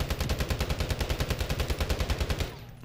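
Rapid automatic fire from a stockless Hemlock rifle in a video game, a steady string of about twenty close, punchy shots for over two seconds, then a sudden stop.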